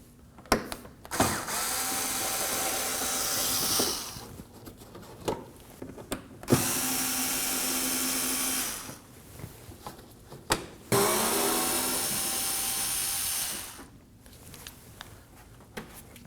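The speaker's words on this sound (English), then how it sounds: "removing these 3 Phillips head screws" A power drill backs out three Phillips head screws from the inner fender well of a 2014-2020 Acura MDX, three sustained whirring runs of the motor separated by clicks and handling noise, close and loud.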